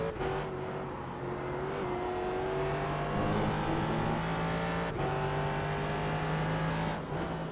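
Ford GT race car at Spa-Francorchamps: a steady, droning engine note held at high revs with gear-change dips and tone shifts, heard continuously from onboard.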